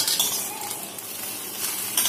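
Bread pieces fry with scrambled egg in a pan as they are stirred for bread masala: a continuous sizzle with light scraping and faint clinks of a utensil against the pan.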